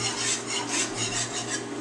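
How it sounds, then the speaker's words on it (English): A whisk scrapes and swirls rhythmically through bubbling broccoli casserole sauce in a pan, a close, steady metallic stirring with regular strokes. "I'm going to switch to my whisk."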